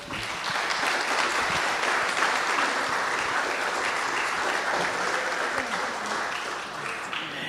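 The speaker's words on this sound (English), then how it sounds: "maybe we can give him a big round of applause this year." An audience gives a sustained round of applause for Peter Robbins at a talk about alien researchers, a dense steady clapping that holds evenly for several seconds without voices.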